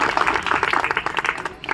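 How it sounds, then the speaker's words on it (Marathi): An audience at a ceremony claps together for an honoured guest, a dense, steady patter of many hands close by for under two seconds. "सर्वांनी एकदा दर्शनाताईसाठी टाळ्या वाजवावं अशी मी सर्वांना विनंती करतो."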